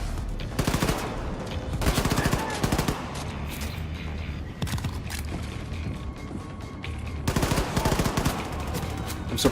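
Gunfire in Wolfenstein 2: The New Colossus, with loud, rapid bursts of automatic weapon fire repeating in clusters and short pauses between, close and dominant throughout.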